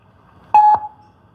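A single short electronic telephone dialing beep for a phone call, clear and alone in silence, with a faint fading tail.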